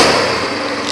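A 210 cc Fox ATV engine idles steadily up close, a dense continuous rumble with faint ticking from the exhaust, holding an even level throughout with no voices.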